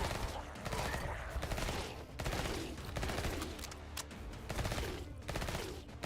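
Rapid bursts of gunfire from zombie shooting in the video game Bloodshed rattle in quick volleys, fairly quiet and repeated across the stretch, with a voice talking faintly in places.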